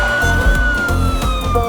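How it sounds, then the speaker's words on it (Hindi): Ambulance siren approaching from behind a moving car on a road, a loud steady wail over engine and traffic rumble throughout. "मैडम शायद पीछे से एम्बुलेंस आ रही है."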